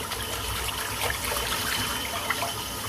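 Tap water running steadily while a paint brush is rinsed out, a continuous splashing flow with small irregular trickles and spatters, close by and with no talking.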